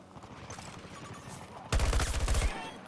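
Battlefield 2042 gunfire lands a headshot: a sudden close, loud burst of rapid automatic shots after quieter background game noise and faint voice chatter.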